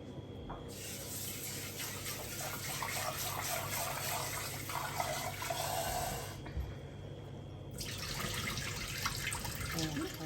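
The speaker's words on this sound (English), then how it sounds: "let me wash this dal first" Lentils are rinsed under running water, a steady tap flow splashing and gushing into a bowl at close range, with brief pauses in the stream.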